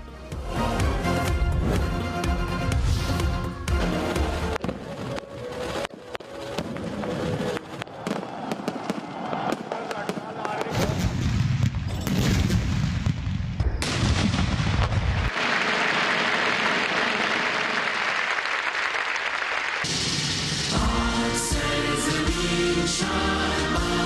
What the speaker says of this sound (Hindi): दिन का आगाज तोपों की सलामी से हुआ।